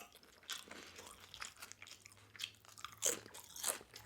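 Nacho chips topped with melted cheese crunch between the teeth in close, irregular bites and chewing, sharp crackles rising above quiet mouth sounds, with no talking.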